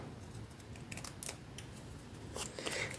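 Quiet, close snips of scissors trimming scrapbooking paper, several short crisp cuts spread across the moment with faint rustling between them.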